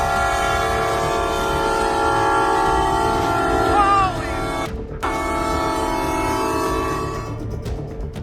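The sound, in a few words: train horn as a train hits a car at a railway crossing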